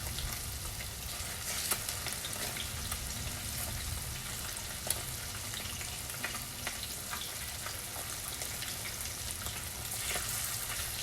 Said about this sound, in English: Always use medium to medium low heat